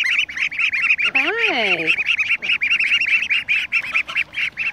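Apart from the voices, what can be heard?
baby ducks and duck flock calling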